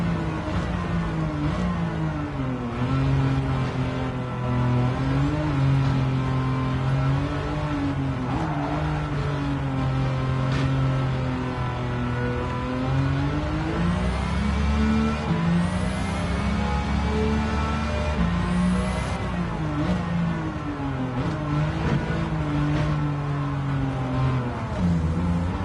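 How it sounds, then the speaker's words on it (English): A supercharged or turbocharged car engine at high speed in Gran Turismo 7 drones loudly and continuously, with the pitch rising and falling through gear changes and a high whine riding above the engine note. "That supercharger or turbocharger makes a funny noise when you're going really fast."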